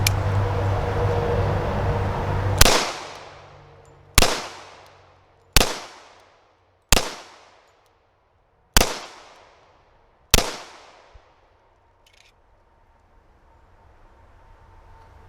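Six sharp pistol shots from a Ruger SR1911 Lightweight Commander ring out at uneven intervals of one to two seconds, each loud crack trailing into a short echo, preceded by a low rumble and followed by quiet.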